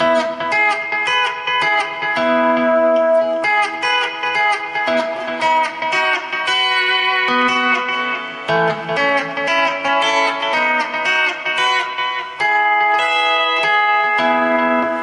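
Bright twangy lap steel guitar notes in E plucked in quick succession, pairs of strings pinched together in a lively, ringing melodic run.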